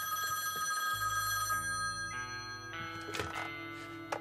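An old style bell telephone rings in the video game The Quarry, sounding in repeated ringing bursts over in-game ambience and layered tones, close and fairly loud.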